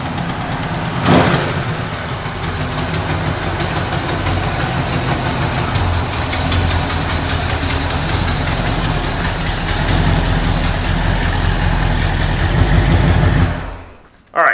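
An abandoned 4x4 Cadillac's engine idles loud and close in a steady, continuous rumble with a slight knocking vibration, then drops off abruptly near the end.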